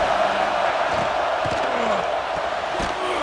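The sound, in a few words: stadium crowd noise in EA Sports College Football video game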